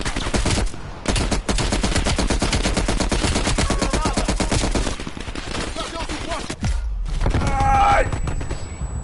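Rapid automatic gunfire in the shooter game Call of Duty Cold War rattles in steady bursts for several seconds, pauses briefly, then resumes, with a voice briefly heard among the shots.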